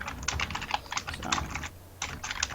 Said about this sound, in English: Oh, that is a keyboard.